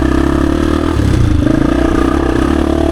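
A 1996 Honda XR250 dirt bike engine runs up close with a busy, clattery exhaust note. It rises off idle about a second in and holds at a higher, rough-edged pitch with no voices.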